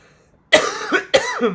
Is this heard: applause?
no